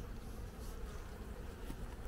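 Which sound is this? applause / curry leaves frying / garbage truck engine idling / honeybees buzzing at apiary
honeybees buzzing at apiary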